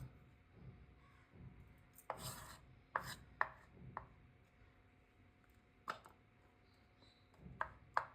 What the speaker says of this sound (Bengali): এই যে এখন আমার এগুলি ডিম কুচানো হয়ে গেছে